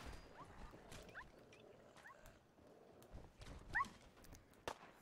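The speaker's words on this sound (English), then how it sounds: "That sounds like the dog's hurt again." A hurt dog in the VR game Fallout 4 lets out faint, high, wavering whimpers over a quiet, rustling game background, with a few scattered thumps.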